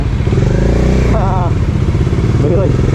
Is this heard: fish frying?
no